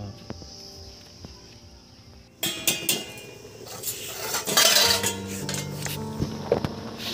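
Metal kitchenware clatters and clinks close by as a lid is set onto a pot of simmering raw green banana for kofta curry, after a quiet stretch, with a few sharper knocks and scrapes and a faint background hiss.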